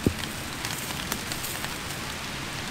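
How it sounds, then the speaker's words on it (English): Rain begins falling at a backcountry campsite on the Ottawa River, a steady broadband patter of drops on surfaces with one brief sharp tap at the start and a few faint louder drips throughout. "Oh no, here comes some rain."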